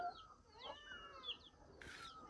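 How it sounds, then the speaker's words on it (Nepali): Young chicks from household chickens peep faintly in a few short, high chirps scattered over about two seconds, distant and quiet, with no voices. "चल्लाहरू"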